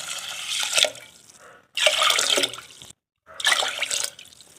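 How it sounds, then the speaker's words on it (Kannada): Water poured into a pot of washed rice and lentils for kara pongal, in three loud splashing bursts separated by short silent gaps, with no voices. "ನೀರು ಸೇರಿಸ್ಕೊಳ್ತಾ ಇದ್ದೀನಿ ನಾನೀಗ ಮೂರು ಬಟ್ಲಷ್ಟು ನೀರು ಸೇರಿಸ್ಕೊಳ್ತೀನಿ"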